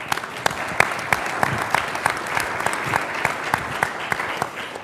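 An audience applauds a newly introduced panelist at a Chilean science policy forum, with steady, dense clapping from a seated crowd throughout, individual sharp claps popping out of the continuous patter.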